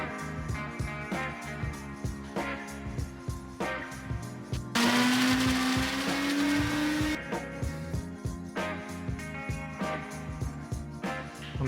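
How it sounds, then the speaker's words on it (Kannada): Kitchen mixer grinder churning soaked ingredients with a little water, a whirring motor in repeated short bursts with a longer continuous high-pitched run in the middle, close and loud. "ಇದನ್ನ ಸ್ವಲ್ಪ ನೀರು ಹಾಕ್ತೇನೆ ಮಿಕ್ಸಿ ಪೌಡರ್ ಮಾಡ್ಕೊಂಡ್ಬಿಡ್ಬೇಕು"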